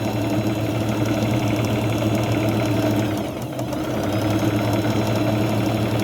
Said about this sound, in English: the sound of the sewing machine sounds so much better when it's not going through like 5 layers of fabric